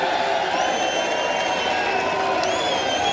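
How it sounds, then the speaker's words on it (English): A large golf crowd at the 2012 Ryder Cup cheers for Rory McIlroy, a sustained, distant roar of voices and scattered applause holding steady throughout. "And that is the cheer for the world States number 1."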